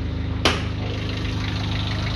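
A carbureted SOHC four-cylinder engine in a Timor car idles smoothly and evenly up close, with one sharp knock just after the start.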